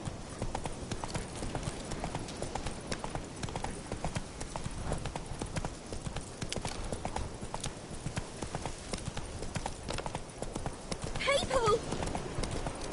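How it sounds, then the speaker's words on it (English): Horse hooves clip-clop steadily and continuously at close range in a medieval fantasy video game, with background ambience under the footfalls and a brief whinny-like call near the end. "Whoa there, Roach"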